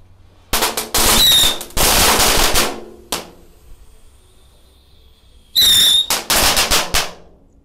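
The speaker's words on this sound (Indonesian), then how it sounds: "ada mercon tikusan yang pretek. Kita nyalakan 8 sekaligus." Eight small mouse firecrackers lit together burst in loud, dense crackling volleys, two long rapid bursts with a few short pops between and faint whistling squeals, heard close outdoors.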